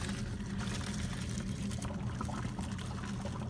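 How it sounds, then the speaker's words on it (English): Cooked pasta being drained, a steady continuous pour of water into a sink or colander, close and fairly loud, with no talking. "To take the water off."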